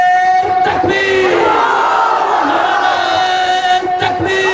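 A large crowd at a religious speech gathering chants the takbir slogan in response, loud and sustained as one massed roar of voices.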